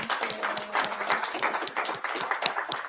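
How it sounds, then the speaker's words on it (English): An audience gives a round of applause at a live show, a dense patter of many hands clapping at moderate volume, steady and unbroken. "we're going to give Jeremy another round of applause."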